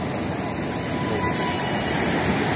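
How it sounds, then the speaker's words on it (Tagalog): A small drone flying overhead above a boat at sea in calm weather, heard as a faint, steady whine blended into continuous wind and wave noise. "Oh, drone. Oh, drone. May bangyaw na lumipad."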